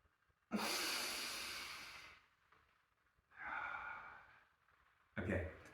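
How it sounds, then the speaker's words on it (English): A person exhales deeply during a beginner breathing exercise, giving a long airy breath out, then a second softer exhale and a short third one, close and quiet. "And as we exhale"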